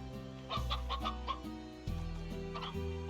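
Chickens cluck repeatedly in the video game Slime Rancher, with short bursts over a steady electronic music background and no talking.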